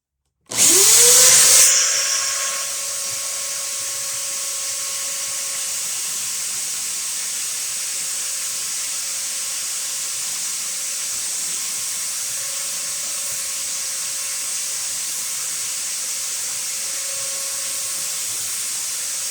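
A rotary tool polishes stone pendant slabs outdoors in the cold, opening with a sharp high-pitched burst as it spins up and then settling into a steady, close whine that runs unbroken for nearly twenty seconds.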